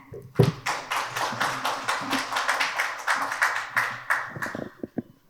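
Audience at a Korean pharmaceutical and biotech industry forum applauding to welcome a speaker, a sustained run of fairly close, individually distinct claps that builds, holds steady, then thins out into a few last claps.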